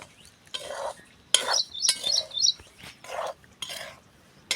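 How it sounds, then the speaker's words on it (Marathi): Salt being stirred as it heats in a pan for making ponga, giving several short scraping, rustling bursts of a utensil against the pan with brief gaps between, fairly close and moderately loud, with no talking. "तर गरम होईपर्यंत आपल्याला हे असंच हलवीत राहायचं आहे"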